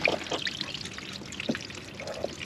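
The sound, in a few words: floodwater draining out of flooded Ford Focus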